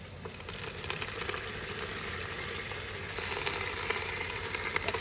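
Meat hits a pan of already-fried spices at an outdoor riverside picnic, producing a steady, dense sizzle that swells noticeably louder partway through as the food settles into the hot oil.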